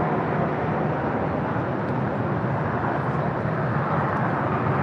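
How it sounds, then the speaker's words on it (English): A United Airlines 757-300 jet roars in a steady, broad rush as it departs from LAX, heard at a distance with no change in level. "Next departure here on the south side, United Airlines Flight 1400 heading to Chicago O'Hare"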